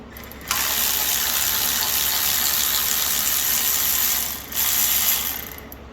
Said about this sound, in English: Now we gotta get those little half-inch nuts off the carb studs.